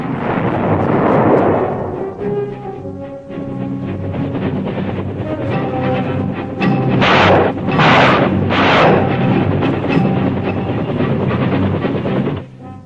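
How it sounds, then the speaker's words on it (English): Artillery fire and Air Force strikes in the Vietnam jungle, heavy booming explosions and rolling rumble with several sharp blasts in close succession, loud and dense, no voices. "Air Force strikes, artillery fire, and Army gunships prepared the way"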